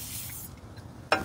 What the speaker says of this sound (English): I'm gonna spray some WD-40 or something down into the threads.